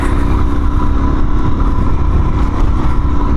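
A 2019 Suzuki DRZ 400 dual-sport motorcycle is ridden off-road with a loud, continuous engine drone that stays close and steady throughout, with no speech.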